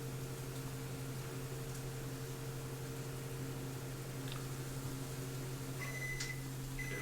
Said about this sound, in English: That's why it sounds like a static hum, because it's a combination of electricity and, natural sizzle